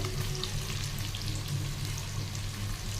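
Capsicum fries in a pan for chilli chicken, a loud, steady, close crackling sizzle that runs without pause.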